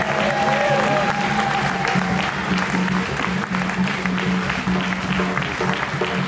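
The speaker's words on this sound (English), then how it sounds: "one more round of applause for our amazing dancers" Audience applause for dancers at the close of an evening Banboche 2019 performance programme, a steady dense clapping from a crowd that holds loud and continuous throughout, with a faint steady tone beneath.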